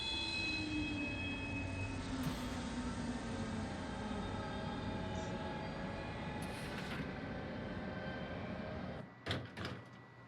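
A train pulling into a station in the video game Final Fantasy XV, a steady rumbling carriage with a slowly falling whine from wheels or brakes, ending with a couple of sharp door or coupling clunks.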